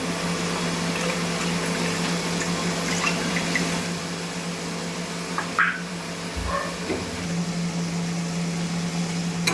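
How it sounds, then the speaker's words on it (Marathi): Water poured into a cooking pot makes a steady rushing flow over a low, constant hum, with a few small clinks and splashes near the end. "याच्यात पाणी टाकून घेऊया आपण."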